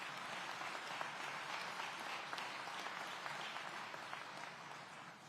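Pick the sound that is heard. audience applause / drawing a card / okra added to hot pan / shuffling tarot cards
audience applause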